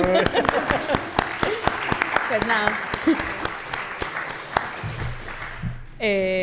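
Scattered clapping rings out as applause in a conference room while voices speak over it.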